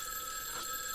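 A telephone rings in the horror video game Spirit Hunter NG, a short burst of bright electronic ringing heard alone at moderate volume.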